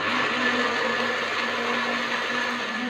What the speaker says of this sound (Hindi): पहले इन चीज़ों को ब्लेंड करेंगे